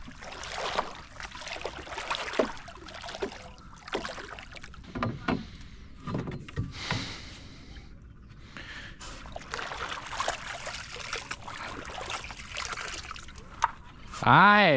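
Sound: ladder boat being paddled into Lam Takhong reservoir water

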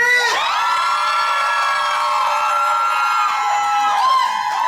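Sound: recording of a crowd of girls cheering and screaming

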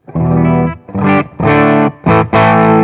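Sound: bass-heavy distorted electric guitar tone

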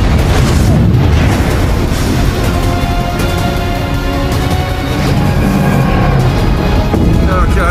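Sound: space shuttle booster separation explosion effect

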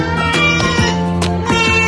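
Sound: cat meowing

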